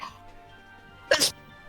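One sharp, sudden sneeze bursts out near the end of a short, quiet stretch during an online tabletop role-playing game session.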